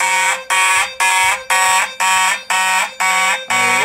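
A Simplex mechanical horn fire alarm (4251-20 horn/strobe) blares in loud, harsh pulses, roughly two per second, with a steady rhythmic beat. It is very close, and there is no talking over it.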